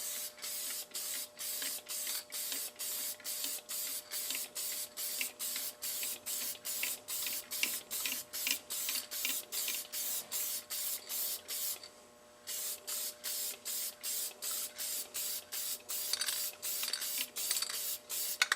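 Paint sprayed onto a faceplate in a steady run of short, even bursts of hissing spray with brief gaps between them, close and continuous, one longer pause partway through, no voices.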